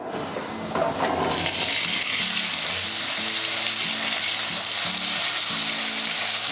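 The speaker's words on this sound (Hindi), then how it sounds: "तो आम प्रथम ये तेल रे अमृतभंडा को भल भाव में भाजवा" Papaya pieces frying in oil for a chana dal curry, a loud continuous sizzle close by with occasional stirring clatter and a low background hum, no talking.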